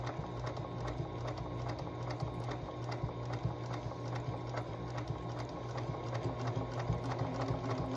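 A sewing machine stitching fabric for NICU bonding hearts, a steady rapid mechanical whir and needle clatter running continuously at close range, with no talking.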